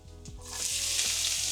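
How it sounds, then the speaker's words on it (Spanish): Chopped garlic and onion fry in olive oil, a loud, steady hiss of sizzling oil that builds after a brief start, with a few low clicks and knocks from a utensil in the pan. "Primero ponemos el ajo picado y apenas se dore agregamos la cebolla."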